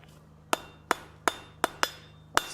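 Six sharp hammer blows ring out on hot spline stock at welding heat, drawn out into a long taper at the forge, struck in an uneven steady rhythm, close and distinct with no talk.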